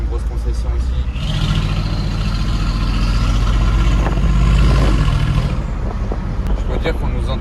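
A loud supercar engine arrives along a street in Monaco, its rumble near and continuous and swelling to a peak in the middle. People talk over it.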